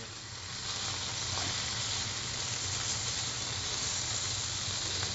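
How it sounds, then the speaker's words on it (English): Steady, loud sizzling hiss of food frying on a flat-top griddle at 400 degrees, with occasional small pops, continuous throughout and no talking. "while they're sizzling away"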